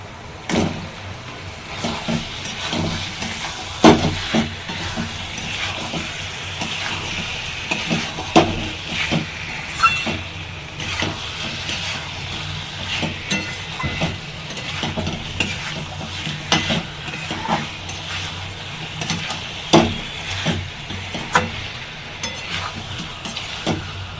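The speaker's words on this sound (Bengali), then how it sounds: "এবার আমি ভাজা চিকেনগুলো দিয়ে দিচ্ছি" Fried chicken pieces are stirred into a Bengali-style chicken curry in a pan, giving steady scraping and stirring clatter over a low continuous sizzle, with occasional louder knocks of the spoon against the pan.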